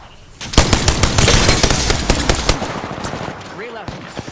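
Rapid automatic gunfire from an Apex Legends match, loud and near, firing in dense bursts before tapering into scattered shots, with a voice briefly speaking near the end.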